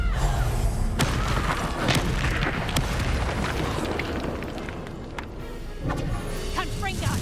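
A Confringo fire spell explodes in Hogwarts Legacy, loud booming blasts with crackling debris amid a busy, dense battle din, a burst near the start and more impacts through the clip.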